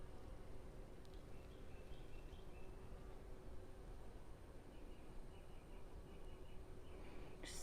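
A steady low buzz of bees in a butterfly garden hums throughout, quiet and continuous, with a few faint chirps in the background.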